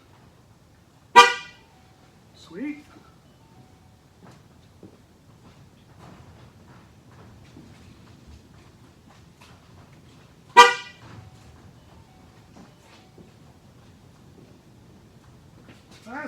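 Horn of a 2011 Ford Mustang during tire pressure sensor training gives two short, loud honks about nine seconds apart, with faint background noise and a brief word spoken between them.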